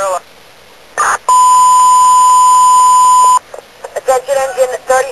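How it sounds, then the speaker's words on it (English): Fire alarm tones over a fire department radio channel in Boston during a three-alarm fire: a short burst, then a steady loud electronic tone held about two seconds, followed by choppy radio chatter and voices. "Fire alarm."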